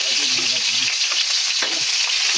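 Onion dropped into hot cooking oil, a dense, loud crackling sizzle that fills the whole moment, close by, with a few faint stirring scrapes underneath and no talking.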